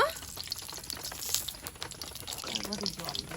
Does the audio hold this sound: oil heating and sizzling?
yes